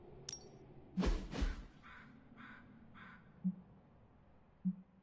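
Crows caw outside an abbey in Marvel Midnight Suns: three evenly spaced, moderately distant caws follow a sharp whoosh and clatter, with low thuds between them and no talk.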